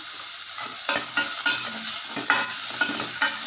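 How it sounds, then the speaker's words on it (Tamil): Onions sizzle in hot oil for rasam with steady crackling, broken by a few sharp scrapes of a spoon stirring the pan; no voices. "வெங்காயம் எண்ணெயில் கொஞ்சம் வேகட்டும்"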